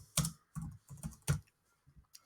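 Quiet keystrokes on a computer keyboard, a handful of separate taps in an uneven rhythm with brief pauses between them, close and isolated with no talking.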